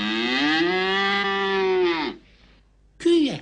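A voice imitates a cow with a long, loud, sustained moo lasting about two seconds, then a brief pause and the start of another short moo-like call.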